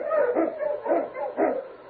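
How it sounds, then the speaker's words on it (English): A husky sled dog, an Eskimo lead dog on a snowy Yukon trail, gives three loud, close barks in an even rhythm, with no voices over them. "King, the swiftest, strongest of Eskimo lead dogs, blazes the trail through storm and snow for Sergeant Preston"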